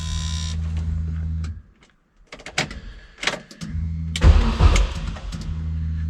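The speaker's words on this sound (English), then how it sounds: "It actually turns the engine over." A race car's engine cranks over after a gearbox change, its starter whirring in short bursts broken by a silent gap and some clicks and clatter, while a steady electrical hum runs underneath.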